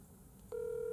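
A telephone keypad sounds a single sharp dialing tone after a moment of faint background hiss, clean and close.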